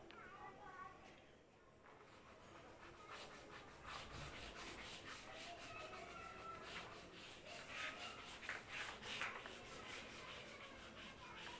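A duster or cloth rubs writing off a classroom board in steady repeated scraping strokes, fairly close and continuous, with faint background noise of the room.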